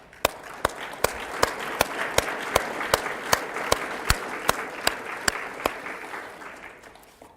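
An audience applauds 16 graduating entrepreneurs at a Dallas graduation ceremony, a dense sustained wash of clapping with sharp, evenly spaced louder claps cutting through, fading slightly toward the end.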